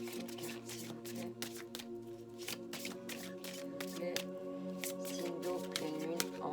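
Tarot cards are handled and shuffled close up in a quiet room, a string of quick papery flicks and riffles in uneven bursts over soft background music.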